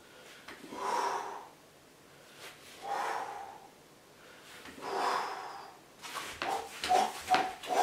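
Forceful exhales during ab exercise repetitions, three long, loud breaths spaced about two seconds apart, followed by a quicker burst of breathy puffs and rustles.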